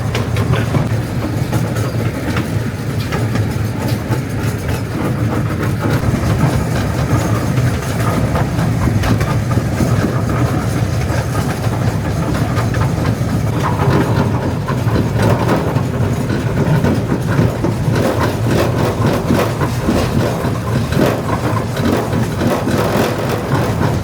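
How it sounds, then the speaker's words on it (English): Steady rumble of a moving miniature ride-on train at Travel Town Train Museum, Griffith Park, Los Angeles, with rail wagons clacking rhythmically over the tracks throughout, no talking. "Just a nice relaxing train ride"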